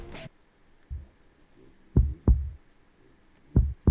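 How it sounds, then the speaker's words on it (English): Deep, thudding heartbeats play as an entrance sound effect for a wrestler at a Royal Rumble match, with a lone beat followed by paired double thumps over a faint low hum. "You hear those heartbeats, the lights go out, the red starts to flash"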